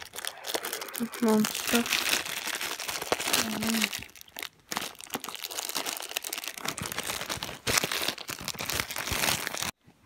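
Plastic packaging of a Pikachu Luigi plush from the Pokemon Center being crinkled, torn and pulled open up close, a steady rustling and crunching with a brief pause midway, while a person talks over it.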